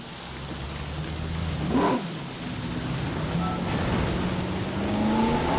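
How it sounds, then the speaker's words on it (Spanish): Heavy rain pours steadily in a Jurassic Park video game mod, a dense hiss under a vehicle's engine drone that swells and shifts pitch as it moves. "Madre mía, cómo está lloviendo, tú."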